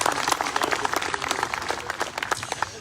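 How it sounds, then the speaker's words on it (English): A crowd at a Memorial Day ceremony bursts into dense, steady applause, many hands clapping together at moderate distance for the whole stretch. "One more round of applause for the"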